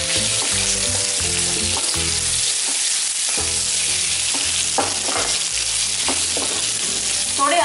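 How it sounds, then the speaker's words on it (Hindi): Carrots and mushrooms stir-frying over a high flame for rice stick noodles, a loud, steady sizzle with bursts of scraping and tossing from the pan, close and continuous with no talking. "गाजर डालेंगे, थोड़े मशरूम डालेंगे और तेज आंच पर ही पकाएंगे"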